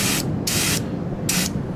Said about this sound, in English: I found this giant can of Rust-Oleum turbo spray system, rusty metal primer.